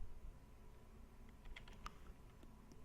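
Quiet typing on a computer keyboard, a brief run of soft, faint key clicks over low background hum.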